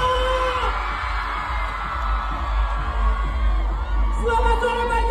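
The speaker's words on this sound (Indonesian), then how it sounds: "sekali lagi teriakannya" Outdoor concert crowd in Banjarnegara shouting, whooping and cheering at a stage show, a loud continuous roar of many voices with scattered yells and drum-like thumps beneath, a sustained music tone rising near the end.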